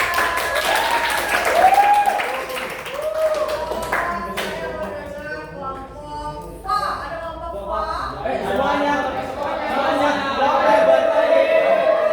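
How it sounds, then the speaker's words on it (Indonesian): A room of people claps in scattered, uneven applause during a Indonesian academic coaching session, mixed with talking and a few laughs over the whole stretch. "Oke, tepuk tangan."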